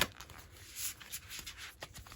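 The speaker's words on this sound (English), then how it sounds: "With the Oracle cards, I'm just gonna shuffle them a little bit." Oracle cards being shuffled by hand, soft quick papery riffles and flicks repeating irregularly, faint and close with no talking.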